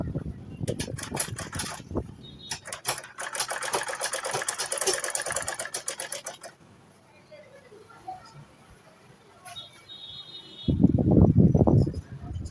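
Sewing machine stitching a shirt dress, running in a fast continuous burst from about two to six and a half seconds, with quieter handling noise and a low voice speaking near the end.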